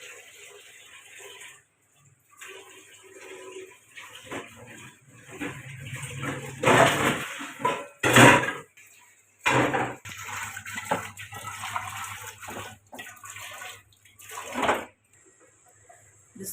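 Water splashing and draining through a kitchen strainer as rice for chicken biryani is poured in, with intermittent bursts of running and gushing water, some clattering, and quiet gaps between.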